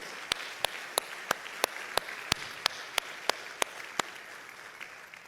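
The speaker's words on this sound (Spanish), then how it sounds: "Dale un fuerte aplauso al Señor" A church congregation clapping in unison, sharp evenly spaced claps roughly every third of a second over a low room hum, a steady rhythmic beat that stops just before the end.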